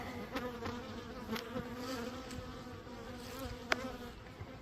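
Bees buzzing around beehives in an apiary yard, a dense, steady hum with individual insects droning past close by.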